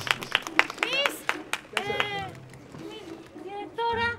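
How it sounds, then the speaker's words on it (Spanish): Scattered hand claps ring out at a children's Halloween comedy show, crisp and uneven, mixed with excited kids' voices and chatter that carry on after the clapping fades. "Un aplauso para la actuación de su compañerita Milechi."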